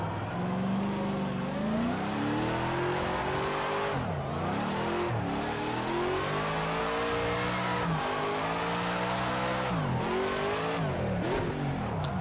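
A racing car engine revs continuously, pitch climbing and dropping sharply with each gear change, loud and close throughout.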